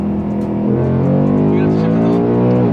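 A 2021 Mustang GT 5.0 with a 10-speed gearbox accelerates hard in second gear, its V8 roaring loud and close as the engine note climbs steadily, with brief talk inside the car.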